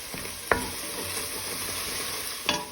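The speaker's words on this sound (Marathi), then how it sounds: "डार्क सोया सॉस परतून बरो मिक्स कर" Dragon chicken is stir-fried in dark soy sauce in a pan, giving a steady sizzle with two sharp scraping clatters of the stirring utensil, close and without talk.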